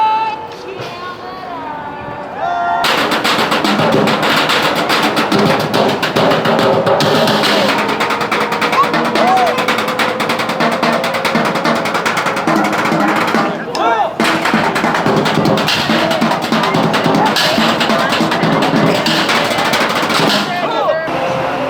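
Loud, dense percussion from a group drumming outdoors at Epcot, a steady pounding groove that kicks in after a quieter opening few seconds and carries on with little letup, with crowd noise underneath.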